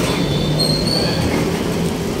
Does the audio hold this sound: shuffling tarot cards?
no